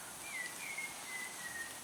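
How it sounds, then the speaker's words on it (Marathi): Birds in a rain-soaked monsoon forest at Tamhini Ghat give several thin, clear whistles in a row, faint and somewhat distant over a soft background hiss. "येस, बर्ड्स शिट्टी वाजवत आहेत."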